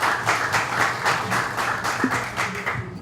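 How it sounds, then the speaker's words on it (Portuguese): Participants at a council meeting give a round of applause, a dense wash of clapping that pulses in loose waves, moderately loud and sustained, with no one speaking. "uma salva de palmas para o nosso próximo encontro."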